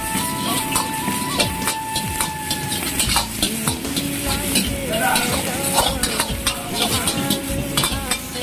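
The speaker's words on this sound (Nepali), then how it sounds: "अन्डा र चिकनलाई चाहिँ मजाले भुट्नुपर्छ है।" Eggs and chicken stir-fried in a pan for chicken Schezwan noodles, loud continuous sizzling with repeated scraping and clanking of a spatula against the metal pan, close up and without talk.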